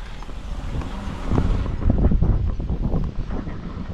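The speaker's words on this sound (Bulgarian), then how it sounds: "сега се появи и малко вятър" Wind blows at a beach in rough gusts of buffeting, low-heavy noise that swell louder midway, close and strong against the microphone.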